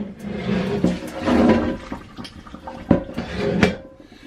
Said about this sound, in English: I will take the whole pan and I will go around the tripod and dump this water down the sink